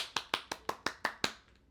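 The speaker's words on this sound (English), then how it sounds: "I'm going to give a hand clap" Seven sharp hand claps in a quick, even rhythm, close and dry, with a faint eighth trailing off at the end and no voices.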